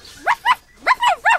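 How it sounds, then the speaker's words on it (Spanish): A small dog barks five times in two quick pairs and a closing bark, loud and close, with a short pause between the groups. "¿cuál no sería su susto al ver que el perrito le ladraba a un hombre tendido en el suelo?"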